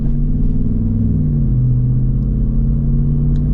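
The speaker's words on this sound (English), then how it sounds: "You get some nice V8 sound." A Dodge 392 V8 idles and burbles with its exhaust valves closed, producing a deep, steady, mellow rumble up close that never gets harsh, with no voices over it.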